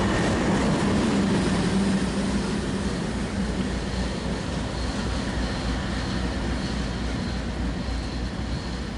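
A freight train rumbles past in Chicago, a steady broadband roar of rolling cars holding loud and unbroken throughout with no voices.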